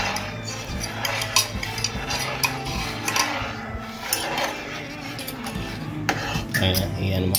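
A utensil clinks and scrapes against a pot while goulash broth is stirred, repeated metallic taps and rattles close up with a voice speaking over the kitchen activity.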